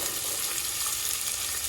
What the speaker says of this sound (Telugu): ఇవి కొంచెం పచ్చివాసన పోయే వరకు వేయించుకుందాము.